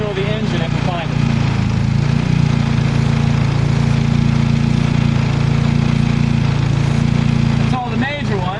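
A car engine with a vacuum leak and high idle runs steadily at idle close by while it is checked with brake parts cleaner. Voices talk over the continuous hum.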